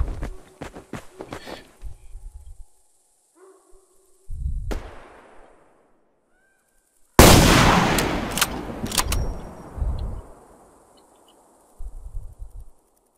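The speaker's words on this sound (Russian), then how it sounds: "Все, стреляют по мне." Gunfire in the online shooter Survarium: several loud single shots and short bursts spread across the scene, with a heavy close blast near the middle and quieter distant shots around it.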